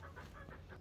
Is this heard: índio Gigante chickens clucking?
yes